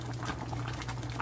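Seafood, shrimp and fish, bubbles as it boils in a pot, a soft steady simmer with small irregular pops and a low hum beneath, fairly quiet and close.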